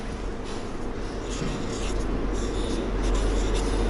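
A pen or pencil scratching on paper as a word is written, a faint continuous scratching over a steady background hum, with no talking.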